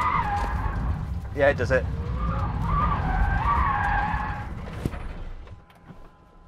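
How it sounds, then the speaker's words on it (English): A Rimac Nevera electric car drifts, its tyres skidding and squealing in sustained wavering squeals, with a sharp burst early on and the noise fading toward the end. Someone speaks briefly over it. "It definitely drifts. Feel sorry for the tyres though."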